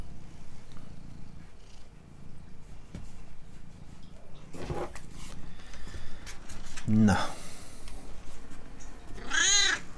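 A cat in the Spider-Man PS5 video game purrs steadily up close, then gives several distinct meows, with someone speaking over it.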